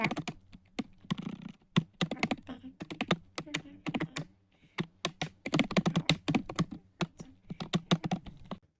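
Rapid, uneven clicking of a computer keyboard as an HTML paragraph is typed after an H6 heading tag, keystrokes close and steady in bursts with short pauses, and a voice briefly audible among them.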